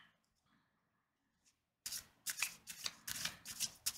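Oracle and tarot card decks are shuffled close by, producing a run of crisp riffling and rubbing bursts that come in quick, uneven strokes after a near-silent opening.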